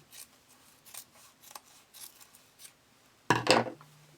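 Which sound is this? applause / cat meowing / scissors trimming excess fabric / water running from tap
scissors trimming excess fabric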